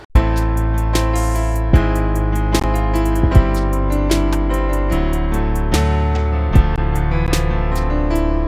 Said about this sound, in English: with the pianos it sounds like this.